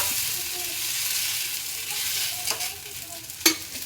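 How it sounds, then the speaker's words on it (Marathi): A rice-flour dosa cooks on a hot pan with a constant sizzle, then a few scraping stirs and a sharp metallic clack near the end as it is flipped. "आपण आता याला उलटून घेऊया"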